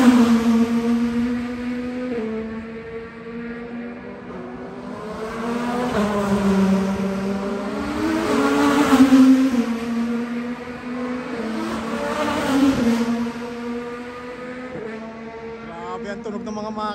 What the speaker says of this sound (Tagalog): ang tunog ng mga makina, mga master